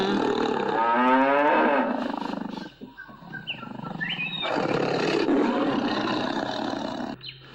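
In an animated cartoon, a tiger chases a cow that has been cut off from its herd. Loud bellowing cries and a roar are heard up close, followed by a short lull and then more drawn-out lowing calls.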